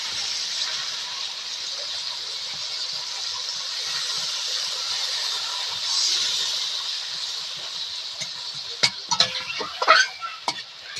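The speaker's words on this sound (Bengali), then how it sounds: "পেঁয়াজগুলো গলার জন্য একটু হালকা করে জল দিয়ে দিব" Onions frying in a pan with a splash of water added for mutton curry, a steady close hiss of sizzling throughout, with a few sharp scrapes and clinks of a utensil near the end.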